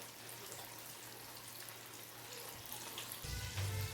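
Fish cutlets fry in oil over a medium flame, a low, steady sizzle close by that swells slightly near the end, with no voices.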